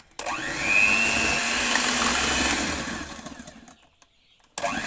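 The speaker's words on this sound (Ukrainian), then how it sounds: "Це все виливаємо сюди до цукру і до яєць і знову збиваємо." Electric mixer beating batter of eggs and sugar, a loud motor whir that starts abruptly, holds steady, fades out and then starts again at the end, no talking.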